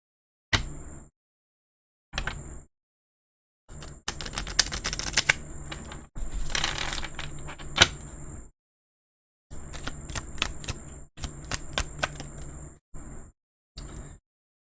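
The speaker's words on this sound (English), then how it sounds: "Let's go ahead and shuffle these really good." Tarot cards shuffled in bursts of crisp riffling and flicking, close and fairly loud, separated by short pauses, with no talking.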